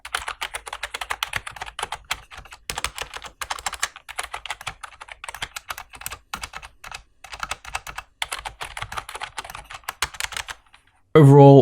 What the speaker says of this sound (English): let's listen to what it sounds like when you're typing